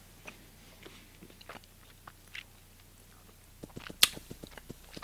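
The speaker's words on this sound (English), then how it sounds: "I really hope you can't hear me chewing." Someone chews hard, difficult-to-eat food near the microphone, with irregular crunchy bites that grow denser and louder toward the end, including one sharp crack, no talking.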